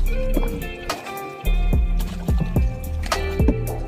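A boat on the Brahmaputra River in Assam knocks and thumps in irregular hollow bumps, with water sloshing and creaking close by under a steady background hum.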